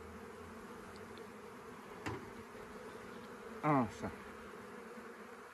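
A steady, close hum of honey bees buzzing during a hive check for Varroa mites fills the clip, with a brief louder buzz of a single bee passing near, and one short spoken word.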